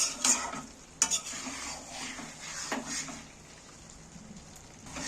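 Almond chicken curry sizzles and bubbles in a pan while a utensil stirs and scrapes against the metal in a few close bursts, followed by a softer steady simmer.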